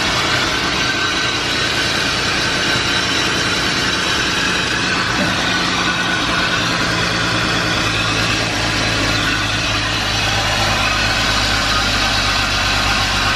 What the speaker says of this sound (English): My tensioner pulley here seems to be making a little bit of noise.